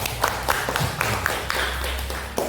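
An audience of teachers at a school event claps in a steady rhythmic pattern of sharp, evenly spaced hand claps, loud and close, with a low background hum.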